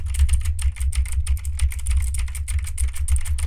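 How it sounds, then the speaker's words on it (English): Rapid typing on a mechanical keyboard with blue switches, close to a HyperX Solocast microphone, producing a dense stream of sharp clicky keystrokes over a low hum. "as if I was just recording a regular stream and typing on my keyboard"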